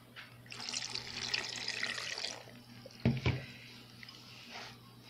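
Water pours in a steady splashing stream into a blender holding chile, onion and garlic for a couple of seconds, then stops, followed by a brief clunk and light handling sounds.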